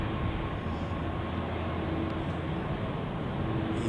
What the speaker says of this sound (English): Here we have a Helvetic Embraer 190 E2 departing to, let's see, Marseille.